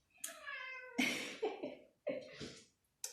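A cat meows repeatedly at close range, giving a series of short, insistent calls with brief pauses between them.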